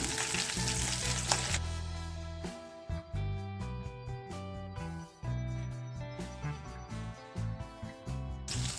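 Garlic frying in hot oil with chillies, its crackle and sizzle running under loud, rhythmic background music for the whole stretch.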